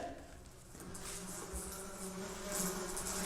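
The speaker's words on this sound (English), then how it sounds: "I know that sound! It's one of those blasted wasps!" A close, steady insect buzz drones throughout, wavering slightly in pitch like a wasp hovering nearby.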